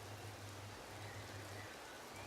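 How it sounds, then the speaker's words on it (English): Rainfall in the game Empyrion Galactic Survival, a steady, soft hiss of falling rain spread evenly across the scene with no voices, faint and continuous over the short span. "Ah, here comes the rain."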